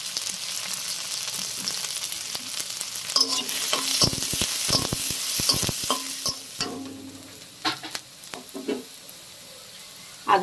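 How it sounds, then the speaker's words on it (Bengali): Onion, garlic, green chili and grated ginger fry in a pan. The sizzle is continuous and moderate, and sharp scraping strokes of stirring come through in the middle, then ease into scattered clinks. "পেঁয়াজ রসুন সব ভাজা হয়ে গেছে"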